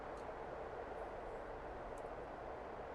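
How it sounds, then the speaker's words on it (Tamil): A freight train rolls past in the Euro Truck Simulator 2 driving game on a Bulgaria road map, giving a steady, continuous rumbling wash of rail noise with no talk over it. "ட்ரெயின் பார்த்தீங்களா, சரக்கு ட்ரெயின்."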